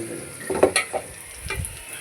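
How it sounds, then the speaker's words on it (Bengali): Vegetables sautéing in a pan with spices, giving a soft sizzle and a few stirring scrapes that rise briefly near the middle, close and moderately quiet, with no talking. "এটা আমরা সবগুলো মশলার সাথে কষিয়ে নিচ্ছি"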